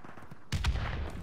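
A grenade blast in a shooter video game, a sudden close boom with a rumbling tail, preceded by faint scattered gunfire in the distance.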